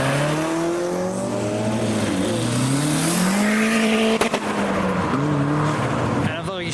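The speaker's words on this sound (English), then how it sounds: "Next round, we got the turboed MX-5 following a Mark II." A turbocharged Mazda MX-5 and a Toyota Mark II pull out of a JDM car show. Loud engines climb through revs in overlapping rising notes, with a sharp burst partway through and a crowd murmuring nearby.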